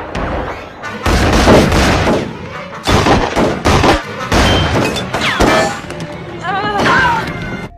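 Gunfire from Widmore's men in the series Lost: loud, sharp shots and metallic clangs in irregular bursts, mixed with shouting voices and dramatic action sounds.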